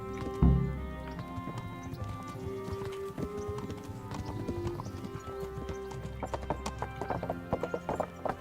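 Horse in Kingdom Come: Deliverance, a close neigh at the start followed by steady clip-clop hoofbeats at a walking pace, moderately loud.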